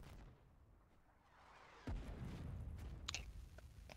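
A gunboat's artillery gun fires in the Foxhole war game, one sharp heavy boom that rolls into a long rumbling decay, followed by faint distant pops over steady background noise.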